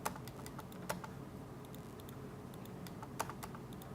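Keys clack at an uneven pace on a new computer keyboard, faint and close, with scattered sharper taps over a quiet room hum.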